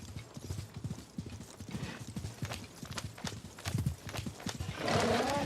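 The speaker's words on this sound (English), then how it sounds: "My mount is breathing heavy here." A horse mount gallops in Assassin's Creed Mirage with fast, loud, rhythmic hoofbeats and a whinny, then heavy snorting breaths near the end.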